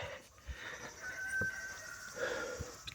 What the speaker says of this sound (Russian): Петухи спать не давали, конечно,